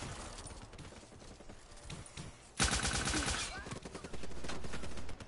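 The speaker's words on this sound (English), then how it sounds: "I'm using a nail gun, so I can't shoot through walls" A nail gun firing in a Call of Duty game match: a sudden loud burst of rapid repeated shots that keeps going for a few seconds, close and sharp, after a quieter stretch of game noise.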